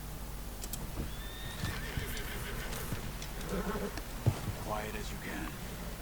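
A horse in the video game Red Dead Redemption 2 neighs and whinnies amid hoof clip-clops and outdoor game ambience, moderately close, with faint talk mixed in.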